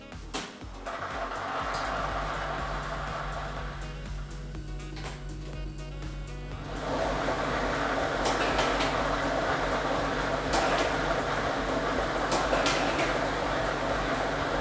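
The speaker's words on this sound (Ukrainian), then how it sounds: "І ми вмикаємо лототрон." A lottery ball drawing machine runs with a continuous mechanical whir and rattle, starting with a clatter and growing louder and busier partway through.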